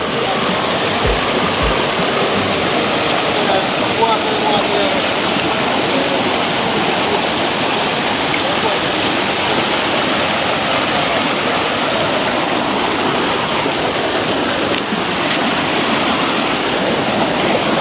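A clear-water river rushing over stones makes a steady, close, full-bodied wash of flowing water that holds unbroken from start to finish.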